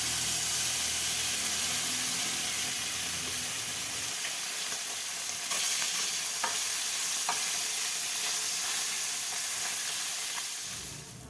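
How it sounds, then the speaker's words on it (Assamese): Goroi fish, washed and rubbed with salt and turmeric, frying in hot oil for an Assamese fish curry, a loud continuous sizzle with occasional stirring clatter, fading slightly at the end. "এতিয়া মাছখিনি ভালদৰে মই গৰম কৰি থোৱা তেলত ভাজি ল'ম।"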